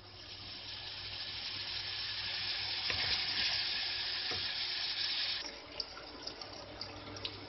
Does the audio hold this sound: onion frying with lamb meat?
yes